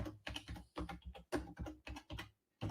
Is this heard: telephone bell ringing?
no